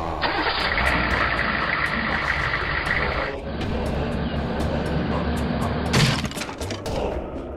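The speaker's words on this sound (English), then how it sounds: "Fire truck." A fire truck engine cranks and catches, then settles into a steady, loud idle that runs throughout, with a sharp burst near the end.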